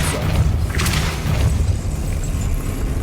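Depulso spell striking in Hogwarts Legacy, a dull, heavy booming thud spread into a steady low rumble that fills the whole moment, with no voices over it.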